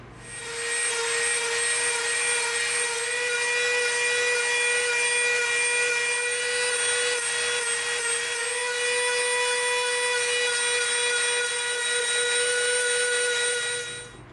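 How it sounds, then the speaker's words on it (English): Dremel rotary tool shaping an EVA foam tomahawk, a high, steady electric whine with bright overtones that runs continuously and close, with no talk. "All right, but we'll do that with the Dremel."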